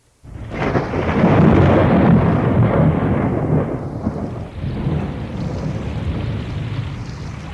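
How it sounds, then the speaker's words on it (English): A heavy thunderstorm with rolling thunder and pouring rain, a loud sustained rumble that swells early and keeps churning under a steady wash of downpour, with no voices. "we had a big storm with a whole lot of thunder and lightning, and the rain poured down in a solid sheet"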